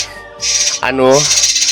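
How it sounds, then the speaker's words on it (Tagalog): Birds call noisily close by on an island, a bright, harmonic squawking phrase broken by a brief pause, loud and clear with no talk over it. "O nag-iingay ng mga ibon."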